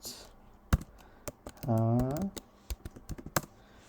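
A password is typed on a Mac computer keyboard, a string of crisp, irregular close key clicks with a short burst of speech partway through.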